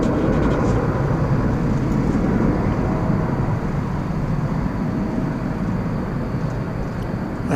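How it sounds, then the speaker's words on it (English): An American Airlines Airbus A321neo, flight 1607 to El Paso, passes at night at DFW Airport with a loud, steady, broadband jet roar that fills the whole stretch and eases slightly toward the end. No one speaks. "I believe that is American Flight 1607 to El Paso, an Airbus A321 Neo"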